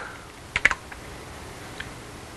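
A few quick clicks on a computer keyboard while cutting web page CSS code, a short cluster of keystrokes followed by a faint later tap, otherwise quiet.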